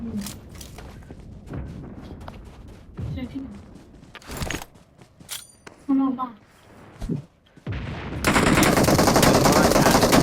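Bursts of rapid automatic gunfire and single shots in the PUBG battle royale game, loud and close, coming in separate clusters, then a sustained dense roar of firing at the end, with players talking over parts of it.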